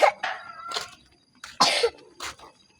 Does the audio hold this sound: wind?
no